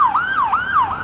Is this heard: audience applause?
no